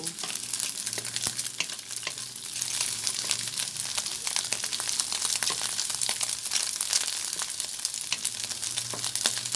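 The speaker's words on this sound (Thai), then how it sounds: "หมูยอของเราให้ให้เหลืองก่อนนะ เพื่อนๆให้สุกให้เหลือง" Pork sausage (moo yor) sizzling in a pan as it fries until golden, a steady dense crackle and hiss with occasional stirring scrapes, close and continuous with no talking.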